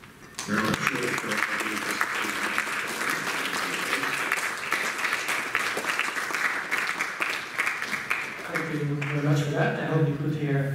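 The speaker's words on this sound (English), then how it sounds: "I hope you could hear the applause." Lecture-hall audience applauding after a physics talk, a sustained dense wash of clapping for about eight seconds before a voice begins speaking over the fading claps.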